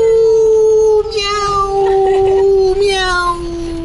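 A person voices a drawn-out cat meow, imitating a cat loudly and continuously, sliding in pitch with a wavering, howl-like tone and no real cat present.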